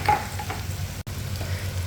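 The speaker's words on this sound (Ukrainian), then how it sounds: "і сюди закидаю порізану кубиком цибулю і моркву. Підсмажую." Steady sizzling of diced onion and carrot frying in a pan, a continuous crackling hiss with a brief stirring scrape, no voices.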